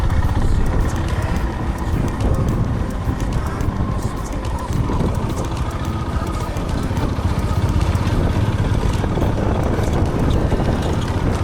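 Honda CB350 motorcycle ridden over a rough, broken road, a steady close engine drone mixed with heavy wind buffeting and rattling, continuous and loud throughout.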